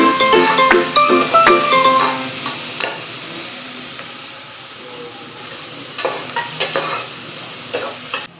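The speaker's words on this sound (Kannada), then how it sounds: "ಹಸಿಮೆಣಸಿನ್ಕಾಯಿ ಮತ್ತು ಖಾರ ಇದೆ, ಚೆನ್ನಾಗಿ ಫ್ರೈ ಆಗಬೇಕು." Onions with green chillies and chilli powder fry in a pan for Ambur biryani, a loud sizzle with quick clinking stirs of a spoon at the start and again near the end, the hiss easing between them.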